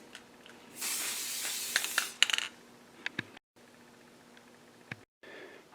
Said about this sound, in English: I'm just going to spray in black.